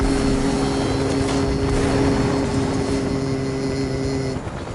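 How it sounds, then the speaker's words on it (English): Helicopter in a chopper dogfight in a video game, a steady whirring drone with a low engine hum held throughout, fairly loud and close, fading slightly at the very end. "Chopper fight."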